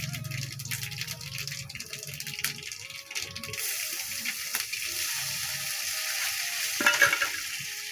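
Panch phoron spices crackle and sizzle in hot oil in a home kitchen, with a continuous hiss and occasional scraping, as a low rumble fades early on.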